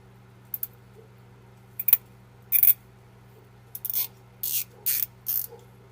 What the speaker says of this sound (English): I'm gonna use a zip tie.